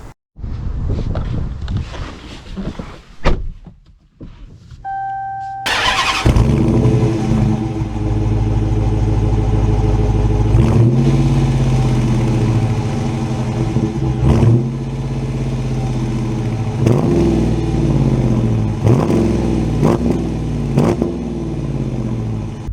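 A Dodge Challenger R/T muscle car with a manual gearbox starts with a burst and then settles into a loud, deep engine drone while driving, rising in revs several times with gear changes, under a steady wash of road noise.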